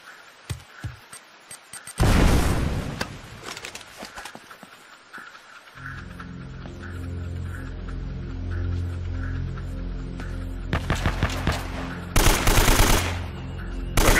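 Gunfire from the video game Uncharted: Drake's Fortune, with loud bursts of shots in short clusters over a steady low rumbling drone, a few scattered cracks at the start and another dense volley near the end.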